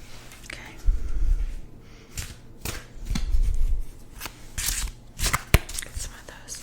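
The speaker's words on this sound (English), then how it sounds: "Get some of those shuffling sounds that I know you like." Tarot cards being shuffled in soft riffling bursts, close and crisp, with a few sharper snaps between passes.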